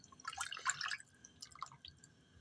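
Broth poured over pork trotters in a pot, a short cluster of light splashes and drips followed by a few scattered droplets, quiet and close with no speech.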